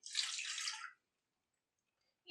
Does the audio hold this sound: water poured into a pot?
yes